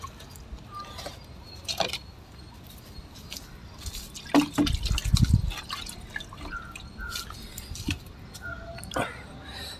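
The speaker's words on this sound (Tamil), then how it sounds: "கொஞ்சம் தண்ணி மட்டும் நான் இப்போதைக்கு விடுறேன்." Water pours onto the soil of a freshly repotted Adenium plant, dripping and trickling in irregular splashes with a brief heavier gush midway, close and moderately loud.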